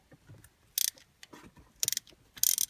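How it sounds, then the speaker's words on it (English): A socket ratchet clicks in three short bursts of rapid pawl ticks while loosening 13 mm bolts during a short-throw shifter handle install on a Ford Mustang, close and clear with no talk. "We're just removing these 13 millimeter bolts."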